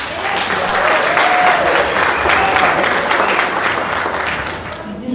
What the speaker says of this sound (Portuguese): acho que uma salva de palmas para a Solange.